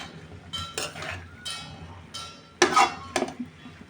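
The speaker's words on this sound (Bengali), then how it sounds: "এবার ভালোভাবে নেড়ে চেড়ে দিয়ে দিব।" A spatula stirs radish greens in a cooking pan, making intermittent metallic clinks and scrapes in short bursts, close and clear with no voices.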